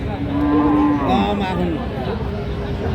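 Cattle lowing at a cattle market in Joypurhat, with a long, close moo rising out of a steady crowd murmur and voices talking throughout.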